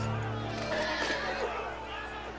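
A horse whinnies as it falls in a Game of Thrones video game, a short strained neigh over a busy, noisy battle backdrop.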